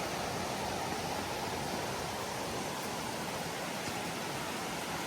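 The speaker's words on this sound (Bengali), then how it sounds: "এই পাশে শুধু পাহাড় আর এই যে পানির কি শব্দ" Steady broadband rush of flowing water beside a mountain, near a large Buddhist temple during a Chuseok holiday trip in Korea, continuous and even throughout with no talk.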